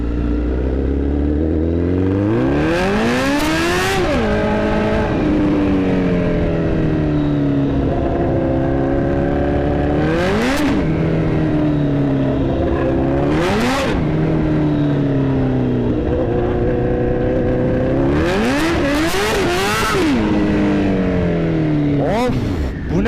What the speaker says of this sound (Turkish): Abi 4 silindir olduktan sonra egzoz olmasa bile ses efsane ya.